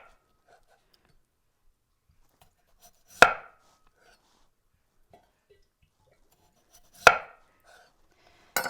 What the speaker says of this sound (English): So now we're going to slice the potatoes a 1/4 inch thick.